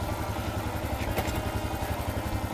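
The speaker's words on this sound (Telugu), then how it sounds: "ఇప్పుడు బైక్ని ఫస్ట్ గేర్లో పెట్టాలి." A motorcycle engine runs close by in first gear with a steady, throbbing low rumble and light mechanical clatter, unbroken for the whole stretch with no voices.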